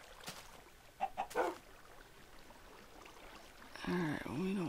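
A video game chicken gives a few short clucks early on, modest in level over a quiet background, before a voice starts talking near the end.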